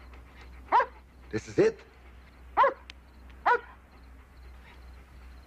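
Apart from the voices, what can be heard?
dog barking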